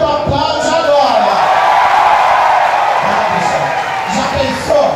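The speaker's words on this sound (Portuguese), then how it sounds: "Para o casamento, aplaude agora!" A nightclub audience at a drag performer's show at Blue Space roars with loud, continuous cheering, whoops and applause that stay dense and steady throughout, with shouting voices mixed in.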